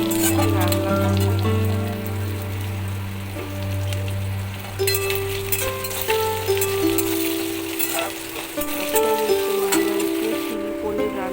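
Chili paneer frying in a pan in a home kitchen, a steady crackling sizzle running throughout beneath background music and some speech.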